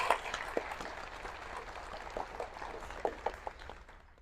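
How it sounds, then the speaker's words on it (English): A conference audience at a special needs family event applauds in a soft, distant patter of many hands that holds steady and then tapers away toward the end. "So one more time, a big round of applause for the efforts that are going on right now."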